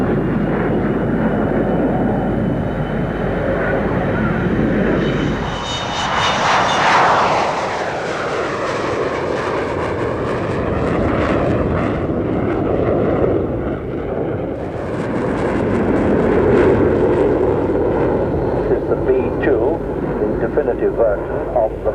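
An Avro Vulcan XH558 bomber flies past, its loud jet roar rising and swelling as it nears and then falling away, with voices heard over the engine noise.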